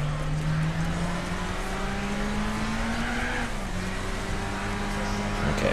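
A Suzuki concept race car in Gran Turismo 4 at full throttle, its engine droning loud and steady with a rising pitch that drops at a shift, then climbs again.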